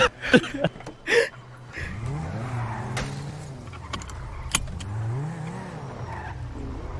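Car driving in GTA V: a steady engine drone with rising and falling revs, brief tire-squeal and skid accents, and scattered game sound effects up front, with no talk heard.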